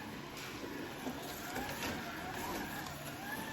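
A Slot.it Nissan slot car running magless on a track, its small motor giving a faint, steady whirring hum that rises and falls slightly as it goes around.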